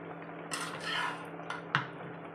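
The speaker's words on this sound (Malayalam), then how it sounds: "ഇതിന് മീൻ ചേർത്ത് കൊടുക്കാം" Fish pieces go into a boiling pot of mango fish curry, producing brief metallic clatters and a soft splash-like rush, with one sharp clink near the end.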